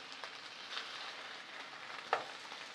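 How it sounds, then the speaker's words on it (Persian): Tomato paste and onions sautéing in a pan give a steady, soft, close sizzle that runs throughout, with one brief sharper crackle near the end. "رب و پیازمون قرار بگیره. یه کوچولو داخل اینها تفتشون میدم"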